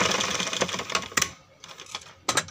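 A sewing machine stitches a suit neckline over buckram interfacing, giving a close, rapid mechanical clatter in bursts with short pauses between runs.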